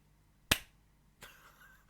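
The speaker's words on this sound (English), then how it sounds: "that was a fucking pillow hand clap" A single soft, muffled hand clap, one short dull smack standing alone in a quiet room, followed a moment later by faint rustling.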